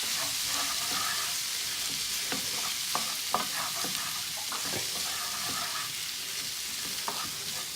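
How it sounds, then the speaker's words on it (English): Whole spices sizzle in a pan for a vegetable curry, a constant bright hiss with quick stirring scrapes and taps of a spoon sounding repeatedly throughout, close and clear. "Now I'm going to add my whole spices. I'm going to give that a really quick stir."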